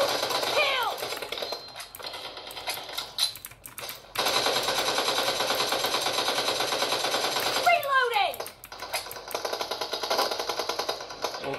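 Automatic gunfire in the mobile battle-royale game PUBG Mobile, long rapid bursts of shots close and loud, broken by short pauses and a few whooshing effects.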